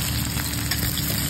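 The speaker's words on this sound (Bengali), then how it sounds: "পেঁয়াজটা একটু ভাজা ভাজা হয়ে গেছে" Chopped onions fry in hot mustard oil with black cumin in a kadai on a gas stove, giving a steady, close, loud sizzle with a low crackling hiss throughout and no talking.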